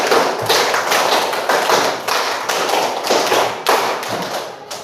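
A class of pupils claps hands in a counting game, five claps repeated three times, with sharp, regular, fairly loud slaps in short groups that echo in the classroom, and no talk over them.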